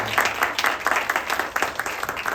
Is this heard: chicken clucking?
no